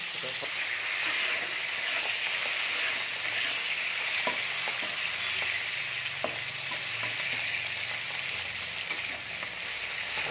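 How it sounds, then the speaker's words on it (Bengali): Rohu fish frying in hot oil in a village kitchen, a loud, continuous sizzle with steady crackling throughout, close up, and a few faint pops and clicks. "মাছ ভাজা হচ্ছে, এবার ডিম ভাজা হচ্ছে।"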